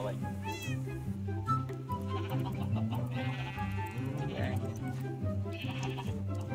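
Goat bleats from the Minecraft video game, a few wavering cries rising over a steady looping musical background, with a person talking alongside.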